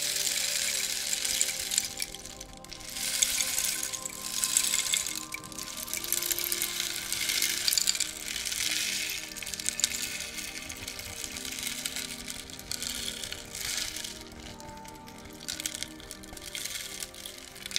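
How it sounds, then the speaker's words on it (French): Steady rain pouring down with a constant wash of hiss and patter, even and close, with no voices. "Écoutez encore quelques secondes cette pluie apaisante."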